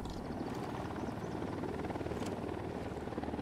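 A helicopter in Tom Clancy's Ghost Recon Wildlands with steady, dense rotor thumping and a low engine roar. It is loud and continuous throughout, with no voices.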